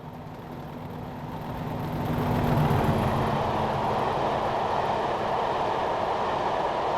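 A BR Class 40 diesel locomotive in Train Simulator 2016 runs with a steady low engine drone and rolling rail noise that swells after a couple of seconds and then holds.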